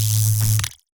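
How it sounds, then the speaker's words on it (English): An electric zap synth preset from the SFX Pro 9000 with its second stage on: a buzzing, crackling burst with a strong low hum that runs loud and steady, then cuts off sharply with a brief crackling tail. "You can turn on a second stage to it, which sounds like this."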